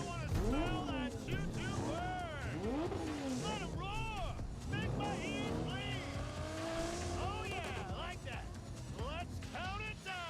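Cars race and skid through a Cyberpunk 2077 chase, with engines revving, tires squealing in repeated sweeping bursts and vehicles passing close, loud and continuous, while game dialogue and voices talk over much of it.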